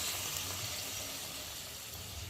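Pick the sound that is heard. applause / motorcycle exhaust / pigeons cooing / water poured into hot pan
water poured into hot pan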